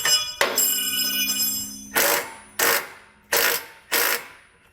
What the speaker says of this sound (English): I'm just going to tighten down one of the bolts